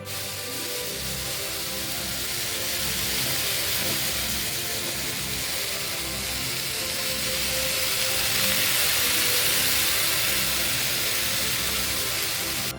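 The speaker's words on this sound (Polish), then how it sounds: "już nie będę dłużej smażyć, bo nie chcę też przypalić tak bardzo jabłek" Apples sizzle and fry steadily in a pan with cranberries, a continuous close hiss of cooking that holds at an even level throughout.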